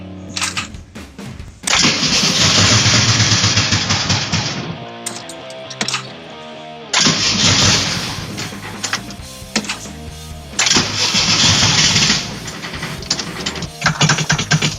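A vintage VW Mexican Beetle engine cranks and catches repeatedly, settling into loud, rough idling runs separated by brief stops and restarts, close and dominant with no talking.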